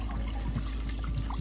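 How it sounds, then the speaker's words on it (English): Water draining from camper plumbing in a horse trailer, gurgling and splashing into a square bucket and onto the floor; a steady, close, continuous rush and trickle with no talking. "Water's running kind of all over the place"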